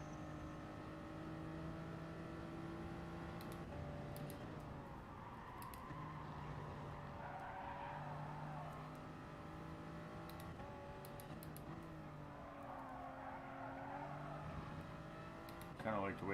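A Supra in a racing video game, its engine droning and shifting pitch as it slides through a corner, steady and fairly quiet under ongoing conversation.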